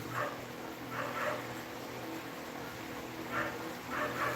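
A dog whimpers and yips faintly in short bursts over a steady background hum, somewhat distant.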